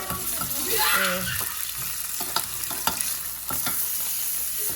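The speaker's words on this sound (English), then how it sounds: "I'm gonna try to get this meat perfectly seared" Meat sears in a hot pan with a crackling sizzle, broken by sharp clicks and scrapes as it is stirred and turned, heard up close.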